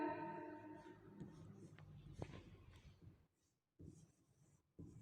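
Pen or pencil writing Hindi sentences by hand, soft scratchy strokes at close range, partly under a person talking, with a brief gap near the end.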